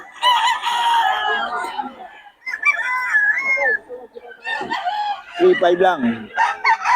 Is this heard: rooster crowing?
yes